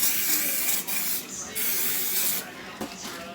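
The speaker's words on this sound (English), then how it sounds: "Spray my pan." Cooking spray hisses out of a can onto a pan in a few close, steady bursts broken by brief pauses.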